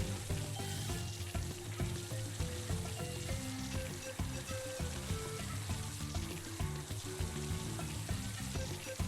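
Water stream spraying in the PS4 game Paw Patrol On a Roll, a steady hissing spray running the whole time under dense game music.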